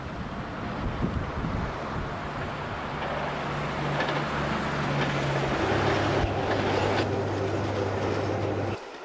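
Merchant Navy steam locomotive hauling an up train from Bournemouth to Waterloo near Weybridge: a loud, building rumble of wheels and carriages passing close, with steady tonal hum and wind buffeting the microphone.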